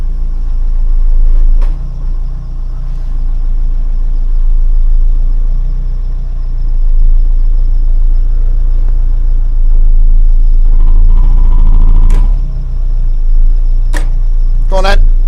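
Small Iseki tractor engine running with a steady low rumbling idle, loud and close, while people talk over it and the engine note briefly swells midway.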